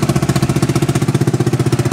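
Yamaha Grizzly ATV engine running in gear: a steady, fast, pulsing thump with an even rough beat, close and loud throughout, with no voices.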